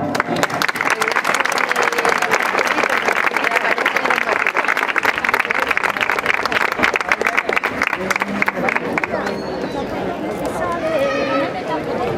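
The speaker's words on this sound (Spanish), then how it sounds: "Yo les pido un aplauso para José Miguel Moreno Caro." Sustained applause from a large audience at a centenary proclamation event in Bobadilla Estación, dense and steady for about nine seconds before thinning into scattered claps and murmuring crowd voices.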